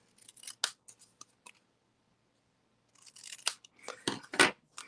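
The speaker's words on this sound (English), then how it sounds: "I'll just trim off the edges here." Scissors trimming the edges of a paper card at close range, a quick series of crisp snips, a pause of near silence, then more snipping with a few louder cuts toward the end.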